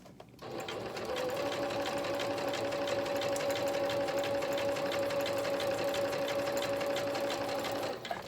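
A sewing machine stitches steadily to hold down fabric on a bird appliqué, a close, continuous mechanical whir with fast needle ticking that runs unbroken for about seven seconds.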